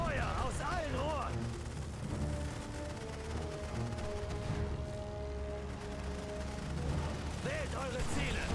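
Massed gunfire from a war video game, a dense, continuous roar of shots under steady battle noise, with no clear separate bursts, while a voice gives orders over it.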